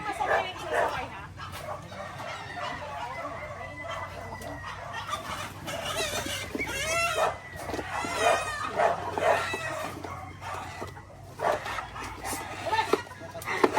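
Chickens cluck and squawk excitedly while a dog barks intermittently nearby, with people talking over the commotion.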